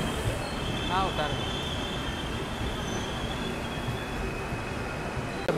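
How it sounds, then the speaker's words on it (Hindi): A train pulling into Mangalore Junction railway station, with a steady rumble of wheels and carriage noise, faint brake squeals near the start and a persistent high whine, heard close and continuous throughout. "मैंगलोर जंक्शन रेलवे स्टेशन हमारी ट्रेन अराइवल हो गई है।"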